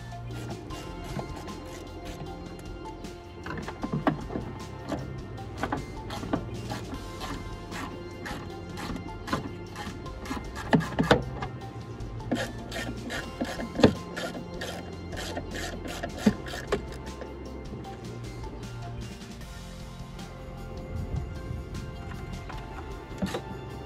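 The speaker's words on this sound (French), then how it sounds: "Dévissez et retirez les fixations du pare-boue à l'aide d'une douille de 10 mm et d'un embout Torx T20." Fasteners being removed from an Opel Corsa D mudguard with a 10 mm socket and Torx T20 bit, with close clicking ratchet taps and sharp metallic knocks over a steady background hum, no talking.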